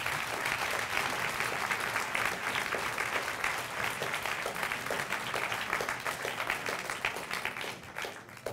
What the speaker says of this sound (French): applaudissez celui qui va nous rejoindre pour remettre le 6e prix éthique de la soirée